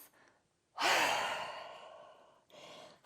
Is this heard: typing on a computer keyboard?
no